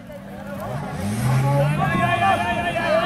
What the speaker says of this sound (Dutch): En volgens mij hebben we nog één auto in de baan die rijdt.